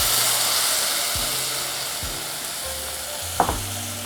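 Onions and garlic sauté in a pan with a steady, close sizzle, while a few soft clinks and utensil knocks of stirring break through near the end.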